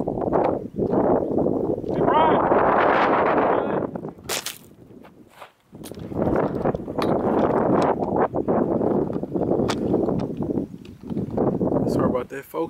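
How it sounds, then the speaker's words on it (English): Strong gusts buffeting a camera microphone outdoors at a GTP-E model car run, loud rumbling blasts that drop out briefly in the middle, with a voice at moments. "The wind blew the camera off"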